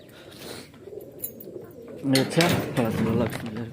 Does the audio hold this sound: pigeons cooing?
yes